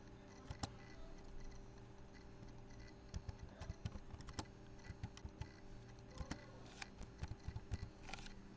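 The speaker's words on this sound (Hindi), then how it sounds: "अब मैं जो कुछ टाइप करूँगा वो यहाँ पर नेम के बीच में टाइप हो रहा है।" Keys clatter on a computer keyboard while text goes into a Microsoft Word document, a quiet run of irregular clicks with a steady electronic hum underneath.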